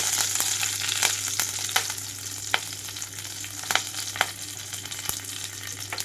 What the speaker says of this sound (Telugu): ఇక్కడ ఆయిల్ అంతా హీట్ అయిన తర్వాత తాలింపు గింజలు, ఎండుమిరపకాయలు వేసుకున్నాను